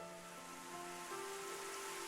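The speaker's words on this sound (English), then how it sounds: "I awoke to the sound of rain striking water." Rain striking water in a video game: a faint, steady hiss of falling rain and soft splashing, with quiet sustained tones in the background.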